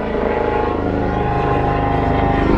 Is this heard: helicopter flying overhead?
yes